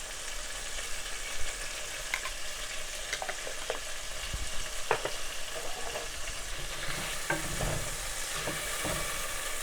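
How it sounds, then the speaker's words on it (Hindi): Vegetables fry in a pan for white rice, a steady close sizzle broken by occasional scrapes and clinks of stirring. "इनको अच्छी तरह से फ्राई कर लेंगे हम"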